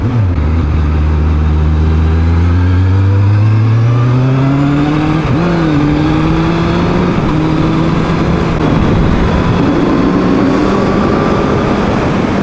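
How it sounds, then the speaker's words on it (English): Kawasaki Z1000 motorcycle pulling hard in fifth gear on an open road at the national speed limit, its engine note climbing steadily in pitch, loud and continuous over rushing wind noise with no talking. "Overtaking fifth gear there at national speed limit speed was utterly effortless."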